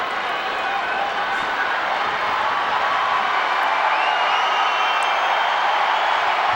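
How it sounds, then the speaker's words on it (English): Tennis crowd at the 2008 US Open semifinal between Nadal and Murray, applauding and cheering in a steady, dense roar of clapping and voices that holds throughout. "This crowd totally into it. They want more."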